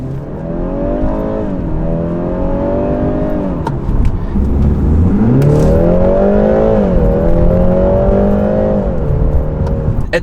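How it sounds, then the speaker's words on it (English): A 2019 BMW 330i G20 with a four-cylinder engine revs and accelerates, a loud raspy drone rising in pitch, dipping at a gear change, then climbing again. "when you accelerate, I find the 4-cylinder engine sounds a little raspy and like it's working too hard"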